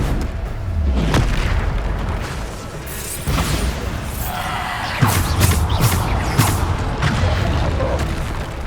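Bombarda spell explosions in the video game Hogwarts Legacy: a series of loud, booming blasts arriving one after another, several close together in the second half, over a continuous rumbling game soundscape.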